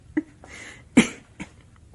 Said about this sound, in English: To get rid of the cough, I mean.